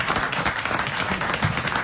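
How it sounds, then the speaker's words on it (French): Studio audience applauding on a French TV comedy show, a steady dense wash of clapping held at even loudness throughout with no voices over it. "ils sont venus pour applaudir Jacques Ramade."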